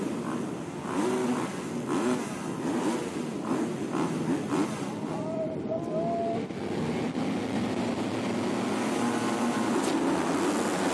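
A pack of MX2 motocross bikes roars off the start at the MXGP of Switzerland in Frauenfeld, a loud, sustained massed engine wail that stays dense and continuous throughout.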